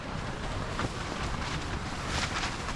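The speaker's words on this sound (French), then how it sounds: "Il y a un vent de fou." Strong desert wind carrying sand roars steadily against the microphone at a bivouac camp in the Moroccan desert, a constant broadband rush with gusty swells and no voices.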